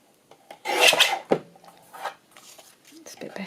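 Paper card for a wedding journal being trimmed gives short raspy cutting and rubbing strokes, close, mixed with quiet talk.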